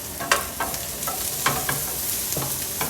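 Vegetables for ratatouille sizzle in a pan over medium-high heat while being stirred, giving a constant frying hiss broken by several sharp scrapes and clatters.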